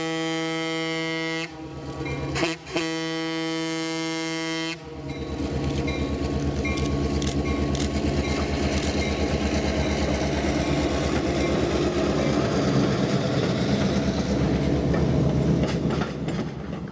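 A Western Pacific F-unit diesel locomotive rumbles steadily with a deep engine drone and horn-like tones, joined by rolling wheel noise as the train moves along, loud and close.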